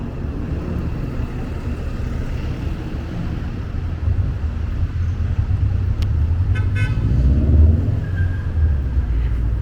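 A truck honks in evening traffic on Wellington in downtown Toronto, a few short sharp toots near the end over a steady low rumble of passing cars.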